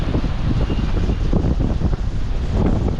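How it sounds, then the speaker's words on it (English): Strong coastal wind near the Bay of Cagnes during a marathon buffets the microphone in a steady, loud roar with rumbling gusts, and no voices are heard. "Windy."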